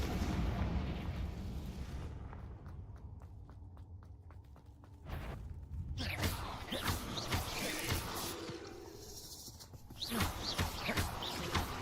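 A Confringo blasting spell goes off in a video game cave with booming blasts, sharp impacts and scattered crackling debris. The blasts alternate with quieter stretches and footsteps, and a voice speaks at times.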